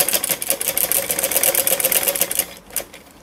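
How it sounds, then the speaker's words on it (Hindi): A sewing machine runs stitching over the elastic casing of cotton palazzo pants. It gives a fast, even mechanical rattle close by for about two seconds, then stops with a brief tail of handling noise. "लास्टिक डालने के बाद जो हमने यहाँ ये खुली जगह छोड़ी थी इसके ऊपर से हम सिलाई लगाएंगे"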